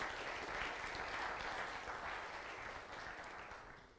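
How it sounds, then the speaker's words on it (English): An audience at a conference panel discussion applauds steadily, a dense wash of clapping that holds for several seconds and then slowly tapers off. "Give him a big round of applause."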